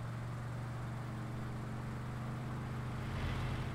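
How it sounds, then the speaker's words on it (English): A truck engine runs steadily after a harvest day, a constant low, throaty drone heard close and alone, with a slight swell near the end. "Can we just talk about how good this truck sounds?"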